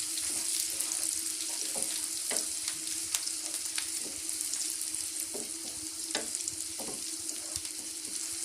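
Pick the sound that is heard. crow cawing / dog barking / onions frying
onions frying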